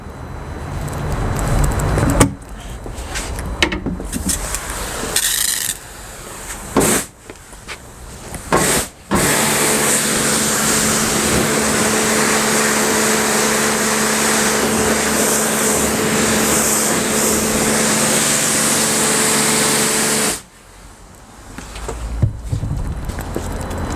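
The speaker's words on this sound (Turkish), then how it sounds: "Şimdi bir basınçlı su tutayım ön yıkama şampuan öncesinde" Scattered knocks and handling noises, then a loud, steady hissing spray from a pressure washer with a droning motor runs for about eleven seconds during a pre-wash of a car, before cutting off abruptly.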